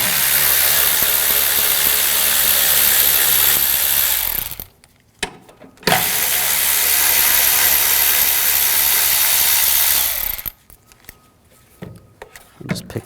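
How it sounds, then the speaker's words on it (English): Ratchet fitted with a 10mm socket backing out two screws on a 2007-2013 BMW 328i 3.0L inline-six, a dense, continuous mechanical clicking run close up, pausing briefly, then resuming for a second long stretch before stopping. "Take these 2 screws out."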